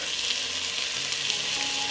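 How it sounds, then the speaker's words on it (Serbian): Onion and garlic sizzling in hot oil in a pot, a continuous close crackling hiss with faint stirring, no voices. "i pržim dok ne omeči."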